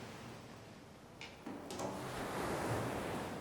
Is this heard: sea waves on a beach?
yes